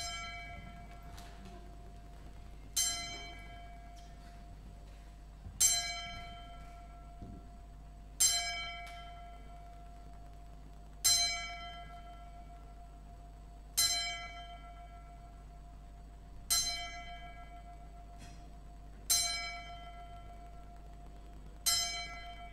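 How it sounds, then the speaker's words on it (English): A ten bell salute for boxers in a gymnasium: a single bell rings ten times at a slow, even pace, each strike bright and ringing out before fading, with the room silent around it. "we will remember him with the 10 bell salute now"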